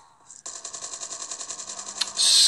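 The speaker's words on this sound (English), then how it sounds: "There's someone shooting me there, isn't there?" Rapid automatic gunfire from the Call of Duty Mobile video game, a steady burst of regular shots running for about two seconds before a louder blast at the end.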